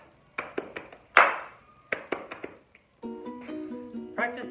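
Body percussion groove played solo and close: quick taps and slaps in a syncopated pattern, punctuated by sharp, bright hand claps, ending as a short musical phrase begins.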